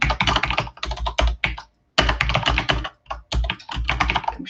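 Keys on a computer keyboard are struck in rapid bursts of close, crisp clicks, broken by short silent gaps, with repeated presses suggesting backspacing. No one speaks.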